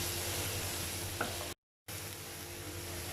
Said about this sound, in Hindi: जैसे ही बटर जो है वो मेल्ट हो गया, मैंने इसके अंदर प्याज ऐड कर दिया है।